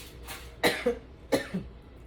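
Two short, close coughs about half a second apart, each a sharp burst with a quieter follow-up, and no talking.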